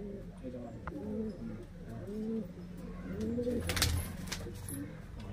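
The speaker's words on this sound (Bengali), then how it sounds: "দুটোই কালদম পায়রা" Kaldum high-flyer pigeons give repeated rolling coos close by, a steady series of soft warbling calls with a brief rustle of movement near the end.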